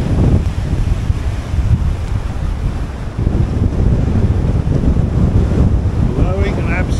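Strong wind buffets the microphone in a constant, roaring rush beside Loch Tay in the Scottish Highlands near Killin and Kenmore, loud and unbroken with a brief dip midway.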